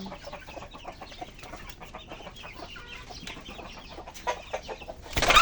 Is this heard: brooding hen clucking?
yes